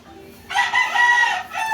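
Black Hat chickens with pea combs, kept as pets, give a loud, close rooster crow lasting about a second over a quiet background of faint clucking.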